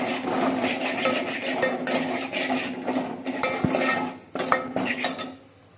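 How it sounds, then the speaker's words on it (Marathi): Ground coconut, peanut powder and spices sautéing in oil, with metal spoon scraping and clinking against the pot over a low sizzle, busy and close, then tapering to near silence. "आणि खोबऱ्याचं कूट टाकून घ्यायचं आहे आणि तेलामध्ये हे सगळं परतून घ्यायचं"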